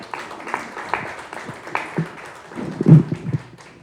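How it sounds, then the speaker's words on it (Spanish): A small audience at a cybersecurity and data protection forum claps to welcome a speaker, a loose scattering of nearby hand claps that builds briefly near the end, with no talking. "Demos la bienvenida con un fuerte aplauso"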